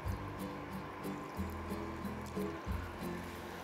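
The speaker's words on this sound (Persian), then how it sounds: "آب اضافه میکنیم" Water poured into a bowl of Afghan turshi pickle mixture gives a steady, soft trickling and splashing, continuous and close, with no voices.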